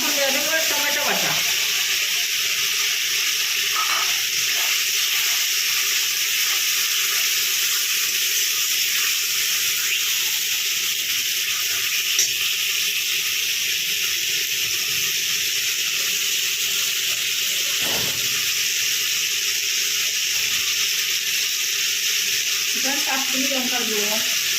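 Spiced masala with tomato paste fries in a pan, giving a loud, constant close sizzle and hiss with occasional stirring scrapes, as a voice speaks intermittently underneath.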